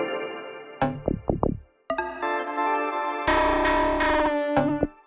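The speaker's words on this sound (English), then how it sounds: "Like that was like this FM oscillator and turning down the pitch" Hardware FM oscillator synth with its pitch dialed down, for minimal house: a few short plucked tones sliding downward, then loud sustained buzzy harmonic drones with effects, ending in a brief clipped stab.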